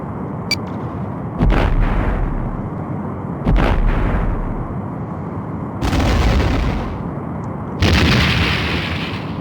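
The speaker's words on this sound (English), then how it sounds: "The Romulan warbird has been destroyed." A Romulan warbird is destroyed in a Star Trek: The Next Generation space combat game, with four heavy booming blasts at roughly two-second intervals, each with a hissing tail, loud against a low rumbling background.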